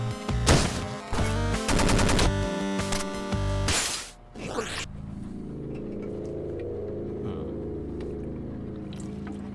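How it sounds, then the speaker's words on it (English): A machine gun fires in the Voxel Art Cars video game, rapid loud bursts for about four seconds, then dropping to a steady engine-like hum. "It's like machine gun, but somehow better."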